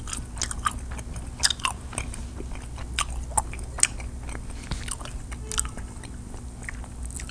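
Close, crisp chewing and biting of Swedish Sockerbit candy from a candy bowl, soft gummy and chocolate pieces mashed in an irregular wet rhythm, no talking.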